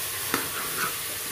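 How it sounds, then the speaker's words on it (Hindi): Carrot, potatoes and green peas fry over a high flame for aloo matar pulao, a brief steady sizzle with a single sharp utensil tap. "यह डालकर हम सारी चीज़ों को हाई फ्लेम पर अच्छी तरह से भून लेंगे।"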